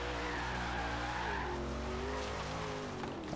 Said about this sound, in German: Mit ein paar Kurven, die man hoffentlich driften kann